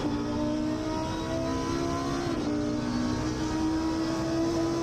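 Race car engines in a PS5 racing game at the Zolder circuit, a steady droning whine with rising and falling pitch lines, held at a constant level without voices.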